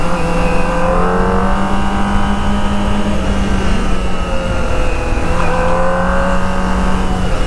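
A Kawasaki ZX25R motorcycle, a high-revving small-displacement four-cylinder, pulls hard at full throttle, its loud, continuous engine whine climbing through revs with a brief dip at a gear change, heard up close and alone.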